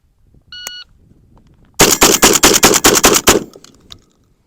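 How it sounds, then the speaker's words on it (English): A Benelli M4 shotgun fires a fast string of about eight loud, close shots in under two seconds, preceded by a short electronic shot-timer beep. "now we'll run the Top Gun out of the Benelli"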